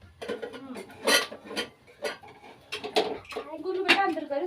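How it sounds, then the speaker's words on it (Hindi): Dishes being washed in a home kitchen sink, with clattering pots, pans and cutlery in irregular close bursts, mixed with intermittent voices in the background. "बर्तन को वॉश कर देती हूँ"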